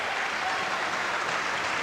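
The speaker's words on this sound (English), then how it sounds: "A warm round of applause." Crowd applause at a 1985 basketball quarter final between Topshot Marti's and City of Launceston, a dense, even wash of clapping heard at a distance, steady and fairly soft for the whole short stretch.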